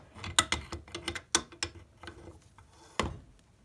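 Wrench work on a rusted nut holding a leaf spring hanger, a series of sharp metallic clicks and ratcheting knocks in uneven bursts, close and fairly loud with no talking.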